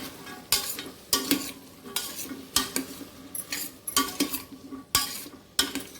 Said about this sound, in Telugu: ఇవి యాడ్ చేసేద్దాం ఒకసారి మిక్స్ చేసుకుందాం